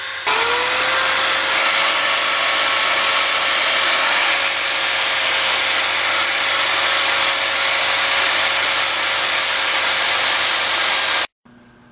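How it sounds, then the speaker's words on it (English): A handheld drill whines at a steady high pitch while polishing a GS1100E motorcycle brake rotor hub, loud and continuous for about eleven seconds before cutting off abruptly. "A fast forward with the handheld drill."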